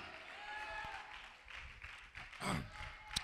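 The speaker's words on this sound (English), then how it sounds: "Come on, clap your hands" Congregation clapping hands in a church service, a faint, steady patter of many hands with a few sharper claps, somewhat distant under a murmur of voices.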